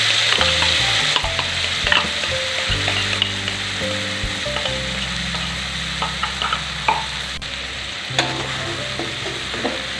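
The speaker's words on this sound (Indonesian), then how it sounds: "Tumis bumbu yang tadi sudah dihaluskan." Blended spice paste for semur jengkol sizzles in a hot pan while a utensil stirs and scrapes it, with small irregular clinks over a steady frying hiss, close and alone without talk.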